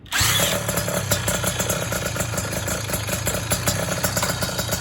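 A small motorized bicycle engine, started with a drill, sputters to life and settles into a steady, buzzing idle, loud and close, with a fast rattling rhythm throughout.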